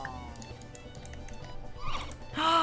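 Horse sounds from The Sims 4 Horse Ranch video game: soft clip-clop and tapping under game ambience, ending with a brief whinny-like neigh near the end.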